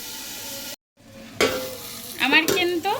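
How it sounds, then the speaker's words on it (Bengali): Potatoes frying in oil in a wok and being stirred, with steady sizzling, a brief silent gap, then scraping stirs that swell louder near the end. "আলুগুলো যাতে সেদ্ধ হয়ে যায় সেজন্য সুন্দরভাবে ভেজে নিতে হবে"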